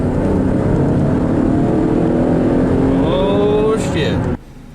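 A 2013 Chevrolet Camaro with a 3.6L V6, freshly serviced, drives along with a steady, loud engine drone and a rising rev toward the end, with a person talking over it throughout.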